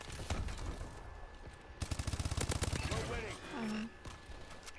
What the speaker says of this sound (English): Shit, I'm getting shot at.